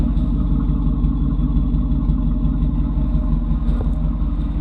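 A tow vehicle's engine idles through its exhaust with a steady, low, throbbing rumble, close and fairly loud, with no talking.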